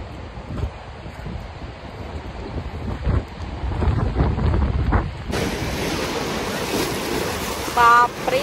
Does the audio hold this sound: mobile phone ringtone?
no